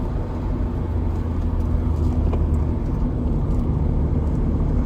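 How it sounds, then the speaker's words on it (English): An older car that struggles on hills drones steadily as it climbs, a continuous loud engine hum and road rumble with no break. "My car doesn't like hills, sorry."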